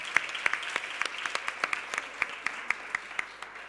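An audience at a round-table session of a parents' association congress in Huelva applauds in a short burst of clapping, with sharp individual claps standing out over a steady patter.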